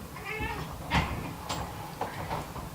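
Two cats meow and yowl nearby in short, rough calls, several overlapping cries over a steady background hiss.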